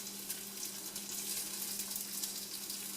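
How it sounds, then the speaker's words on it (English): Potatoes frying in oil in a skillet give a steady, close sizzle with a constant crackling hiss and a low hum underneath, running unbroken with no talk. "So now you will see me place the potatoes into the skillet."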